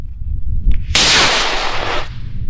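A model carbon fiber rocket ignites with a sudden loud hissing roar of its motor, close by, lasting about a second before cutting off, with wind noise and a faint click beforehand.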